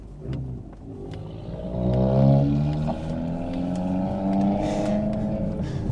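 A small engine drones and revs with a buzzy, rattling tone, rising in pitch then settling into a steady putter.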